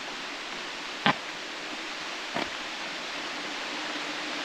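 Mountain spring water running beside a stone stairway along the Blue Ridge Parkway, a steady, even broadband rush throughout with two brief knocks standing out over it.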